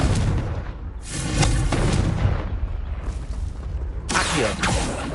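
Explosive Confringo spell blasts from the video game Hogwarts Legacy: loud, booming bursts that hit around the start and again later, each leaving a rumbling tail over continuous game sound.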